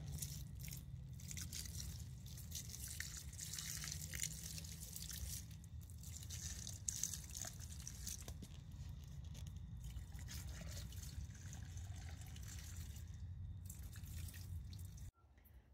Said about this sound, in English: Alright, I'm going to water them in.